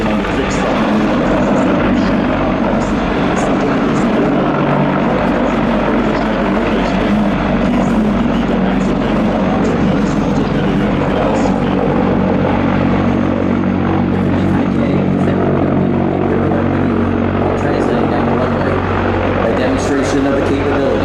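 A Sikorsky CH-53K King Stallion heavy-lift military helicopter performing a quick-stop maneuver at an air show roars loudly and steadily throughout, a heavy thumping rotor and engine drone that stays close and constant.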